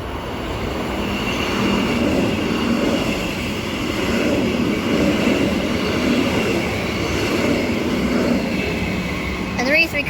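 An EMU electric train arrives at Murdoch station platform, a loud sustained rumble and rolling roar close by, with a voice speaking over it near the end.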